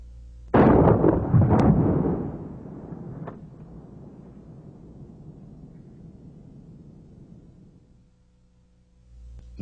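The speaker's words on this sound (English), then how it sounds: "Now let's see the effect of a rifled slug." A single loud, booming shotgun blast from a rifled slug, followed by a long rumbling decay that fades over several seconds. No voices are heard.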